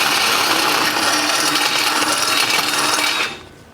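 A hole saw cuts steadily through material for about three seconds, a loud continuous grinding rasp that then stops abruptly, leaving near silence.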